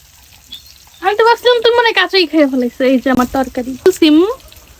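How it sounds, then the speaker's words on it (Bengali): Bitter gourd fries in oil with a soft, steady sizzle that sits under a person talking continuously close by. "এই জায়গায় উস্তাগুলা ভাজতেছি"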